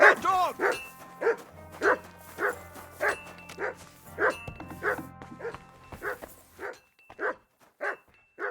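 A dog in Kingdom Come Deliverance 2 barks repeatedly in a steady, insistent rhythm, a dozen or so loud close yaps running over soft background music from start to finish.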